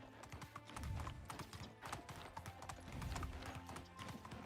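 A donkey's hooves clip-clop steadily in the Medieval Dynasty video game, a rapid rhythmic patter close by over soft ambient background.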